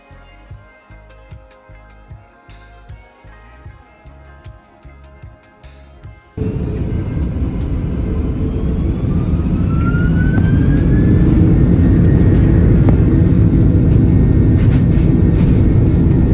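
Inside the business class cabin of a Qatar Airways jet taking off from Dar es Salaam. Rhythmic thumps from the rolling wheels give way to a sudden, loud engine roar that builds steadily, with a rising whine.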